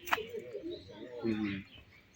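Soft low clucking and murmuring calls from hens at a zoo in Chișinău come in short irregular bursts, near and fairly quiet, with a sharp click at the start.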